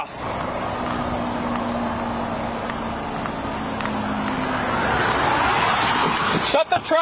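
A truck engine idles with a steady low rumble and a faint drawn-out hum, loud and close, as a voice breaks in near the very end.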